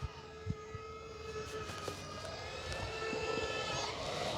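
An E-flite Carbon Z T-28 RC airplane flies with a steady electric motor whine and faint high tones that swell slightly, moderately distant and continuous, with no talk.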